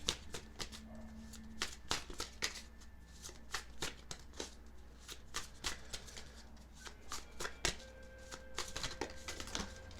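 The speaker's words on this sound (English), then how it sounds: "We're going to push this card off to the side and get your next card for Aries Moons." Tarot cards being shuffled by hand, a quiet close riffle of repeated crisp card flicks and slides in steady bursts.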